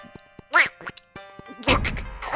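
A man attempts a Donald Duck impression, his voice imitating the cartoon duck's raspy quacking squawks in short bursts with pauses, ending in a louder garbled sputter.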